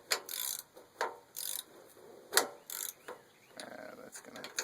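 A ratchet with a 1/2-inch drive socket works the starter bolts on a Craftsman riding mower, giving quiet, close bursts of rapid clicking separated by short pauses.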